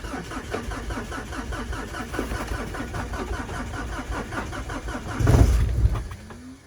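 A London taxi diesel engine cranking in cold weather, the starter chugging in a fast, even rhythm for several seconds, then a louder surge as the engine briefly catches before dropping away.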